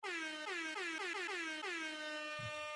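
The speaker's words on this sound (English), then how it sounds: "And can I get an air horn?" A loud air horn sound effect blasts in a rapid series of short, repeated honks, each sliding slightly downward in pitch, followed by one long sustained blare close and alone.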